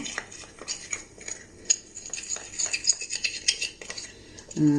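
A spoon clinks and scrapes against a bowl while stirring a foaming home remedy mix for darkened skin, quick rhythmic metallic taps close up, with a brief low thud at the end.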